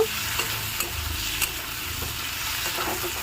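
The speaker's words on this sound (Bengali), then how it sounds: "হলুদটা দিয়েও আমি ভালোভাবে নেড়ে নেব" Chicken with spinach and turmeric is stirred in a pan, with a low sizzle beneath repeated spatula scrapes and small knocks at an uneven rhythm, up close and with no one speaking.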